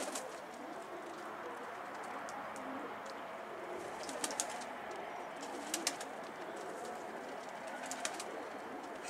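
Soft cooing of a pet pigeon over a quiet background hiss, with a few sharp clicks and calls here and there, outdoors near a rooftop.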